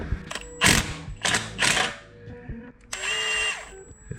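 Bursts of an impact wrench hammering a bolt loose on a car near the radiator bracket, several short loud rattling runs separated by pauses, ending with a longer steady whirring pass.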